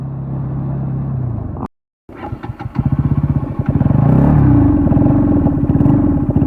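Bajaj NS 200 motorcycle engine running loud and close, a steady throbbing rumble that cuts out briefly to silence, then restarts with chugging pulses and settles into a strong, continuous drone.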